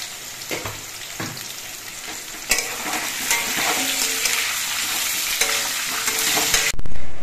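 A loud, continuous sizzle of salted potatoes frying in oil for a Ritha fish curry, broken by repeated scraping and stirring strokes and a clank at the finish.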